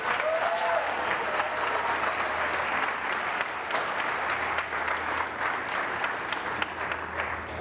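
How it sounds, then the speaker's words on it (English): A theatre audience applauds the sponsors before a Sweeney Todd performance with dense, sustained clapping from a large crowd, loud and even throughout. "Please join me now in thanking all of our sponsors with a round of applause."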